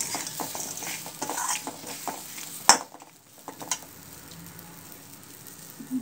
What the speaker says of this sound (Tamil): நம்ம ஃப்ரை பண்ணிவிட்டு முருங்கைக்காய் போட்டுடலாம்,